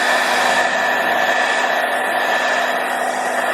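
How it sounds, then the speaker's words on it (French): A hair dryer blows steadily and loudly close by while drying paint on an aquarium decoration, a constant whooshing whine with no pauses or talking. "on va tenter de passer au séchage"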